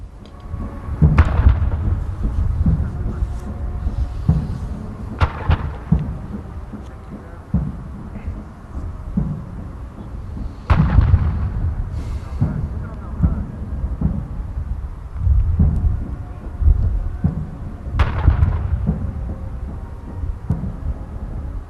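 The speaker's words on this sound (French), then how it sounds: "L'artillerie a tiré 21 coups de canon en signe d'hommage et d'honneur aux" Artillery cannons fire a 21-gun salute at a funeral outside Al-Mouchir mosque in New Cairo, heavy booms landing every few seconds over a continuous rumbling background, with voices talking throughout.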